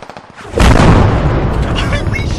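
A car bomb detonates in the military shooter game Squad, a single loud booming blast that hits hard and then rumbles on in a long, dense roar as debris and echoes fade.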